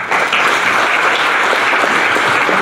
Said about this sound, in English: A round of applause for it, please.